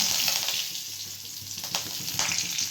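Curry leaves sizzle and spit in hot oil as rice pulao is started in a home kitchen, giving a steady hissing fry with brief louder crackling bursts.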